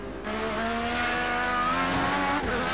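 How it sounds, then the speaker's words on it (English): A race car brakes hard in Project Cars 2, its engine droning in steady harmonic tones with a tire-squeal edge, loud and close, ending in a brief thump. "I've braked way too early for that"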